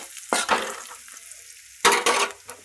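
Chopped onion frying in a pan for a bitter gourd (karela) dish, with two bursts of scraping stirring over a soft, steady sizzle.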